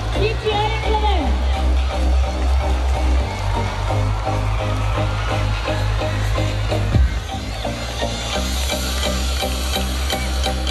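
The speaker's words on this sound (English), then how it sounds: "Cheer for your group, children. Keep cheering for them." Children cheering at a school sports day race, a broad crowd roar under loud amplified announcer-style talk and music-like tones, continuous throughout with a sharp bump midway.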